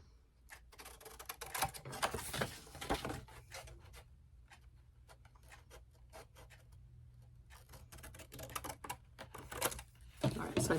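Corners being cut off an album cover: a long run of rapid, close crisp snips and rasping cuts, bunched into uneven bursts, at low volume with no voices.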